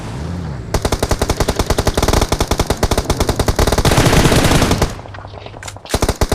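Gunfire in a battle royale video game: rapid, loud automatic bursts rattle almost continuously, with a brief pause near the end before a few more shots.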